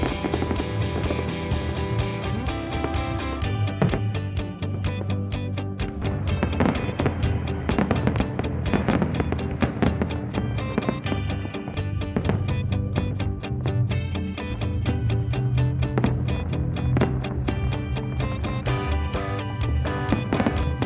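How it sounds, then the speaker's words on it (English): Drone and fireworks show paying tribute to the Tropicana in Las Vegas, with a dense, continuous run of crackling bursts and pops over steady music for about twenty seconds. "here is more of that spectacular drone and fireworks show that was a big tribute to the"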